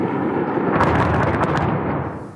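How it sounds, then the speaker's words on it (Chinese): Ukrainian air defence firing at Russian drones over Kyiv at night, heard as a dense, continuous rumble of distant explosions and booms with sharper bursts in the middle. No voices are audible. "基辅夜空火光，炮声不断"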